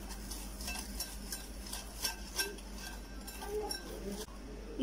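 Chocolate cake batter being stirred in a bowl as milk is added a little at a time, a steady scraping, swishing mix with faint clinks of a utensil, soft and continuous throughout.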